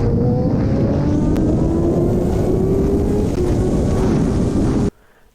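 A Kawasaki Ninja H2 motorcycle tears along at very high speed, a loud constant roar of wind buffeting mixed with a steady high engine whine that drifts slowly in pitch, then cuts off abruptly near the end.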